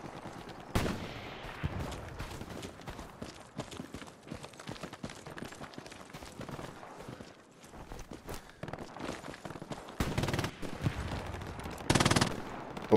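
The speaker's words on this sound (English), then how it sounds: "Oh, MG42." An MG42 machine gun fires in Hell Let Loose during a daytime British offensive at El Alamein, with loud repeated bursts of automatic fire among scattered shots and ambient battle noise, strongest near the start and end.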